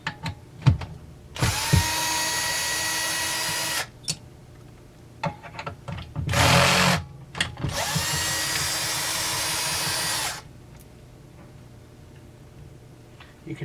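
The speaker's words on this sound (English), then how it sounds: "Let's undo the 4 bolts holding this plate on." Power tool spinning out the bolts on a plate of a Husqvarna 372XP X-Torq chainsaw, three loud whirring bursts of a few seconds each with short clicks and ratcheting between, close up and with no talk.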